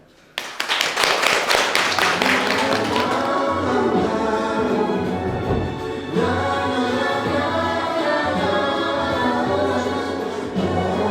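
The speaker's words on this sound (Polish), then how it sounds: "Gromkie brawa dla Pani." Audience clapping for honoured women at a seniors' cultural gathering, a burst of claps near the start that gives way to loud, steady music with a strong tonal beat for the rest of the stretch.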